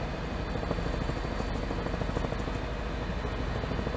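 Houston police helicopter flying overhead during a car chase, a continuous dense rotor-and-engine roar with a steady pulsing chop, loud and constant throughout with no voices.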